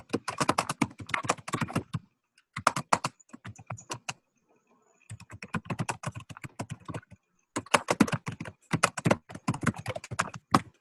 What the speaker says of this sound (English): Somebody is typing away.